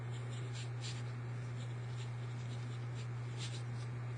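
A pen writes on a paper foldable, giving soft, repeated scratchy strokes in short bursts over a steady low hum, close and quiet, with no speech.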